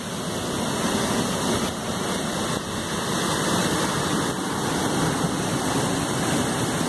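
Heavy rushing water pours beneath the Gangorra bridge, a steady loud broadband roar that holds for the whole stretch with no talk over it.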